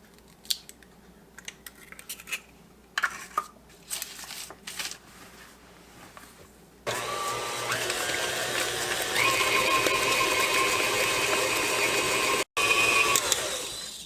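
A kitchen mixer starts up and beats eggs into banana bread batter with a steady, loud mechanical whir. Scattered clicks and taps of bowl handling come before it.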